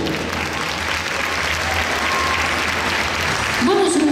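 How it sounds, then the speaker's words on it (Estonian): Audience applause at a gymnastics awards ceremony, a steady dense crowd clapping throughout that swells slightly near the end, with faint talk underneath. "Teeme neile veel ühe suure aplausi."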